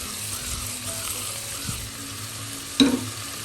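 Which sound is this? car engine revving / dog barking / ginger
ginger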